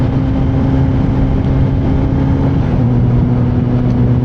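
A motorcycle being ridden, its engine droning at a steady, loud pitch with wind rush throughout, no voices.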